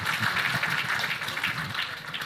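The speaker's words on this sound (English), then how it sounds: "Can we have a round of applause for that?" Faint audience applause at an annual general meeting, a soft continuous patter of clapping heard from a distance with no talking over it.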